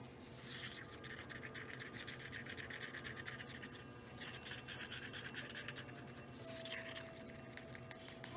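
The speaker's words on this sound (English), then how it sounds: "stirring my resin like cake batter" Resin being stirred in a cup for geode painting, a steady scraping and scratching that runs throughout at close range with no voice over it.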